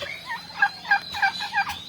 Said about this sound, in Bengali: এই যে এটা আমার বেড়া টার্কি